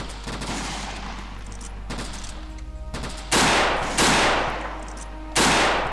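Repeated gunfire in the WWII shooter Iron Front, with bursts and loud rifle and machine-gun shots cracking out close by over steady background battle noise, several sharp blasts coming in the later seconds.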